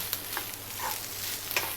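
Jasmine fried rice with pork, Chinese sausage and egg sizzles and crackles in a hot wok, with occasional scraping taps as it is stirred, close and steady.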